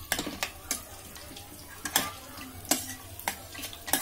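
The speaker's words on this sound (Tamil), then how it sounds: "நல்லா பரட்டிட்டீங்கன்னா அந்த மசாலா எல்லாம் மிக்ஸ் ஆகிடும்" Masala being stirred into frying prawns and liver in a pan, with sharp, intermittent spatula scrapes and taps over a soft, quiet sizzle; no talking.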